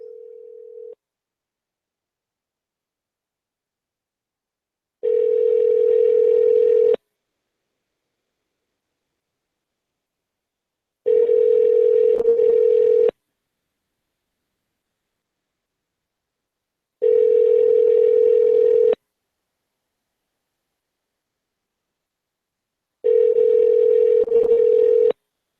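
A phone handset gives a short dial tone, then four evenly spaced long tones, each about two seconds, separated by silence, loud and clear with no talking.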